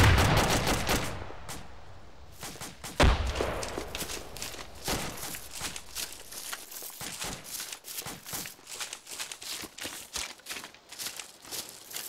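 Arma 2 combat around Celle Bridge: an irregular string of sharp gunshots, some close and loud and others more distant, crackles on throughout with little pause.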